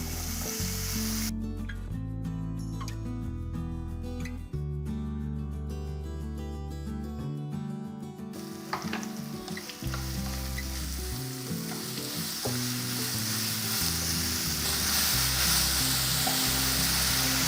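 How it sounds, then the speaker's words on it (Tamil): Indian gooseberries and green chillies sauté in a pan for a gooseberry chutney, with a continuous sizzle and frying hiss under background music throughout. "இப்போ நெல்லிக்காய் எல்லாத்தையும் எடுத்து இதில் போட்டுடலாம்"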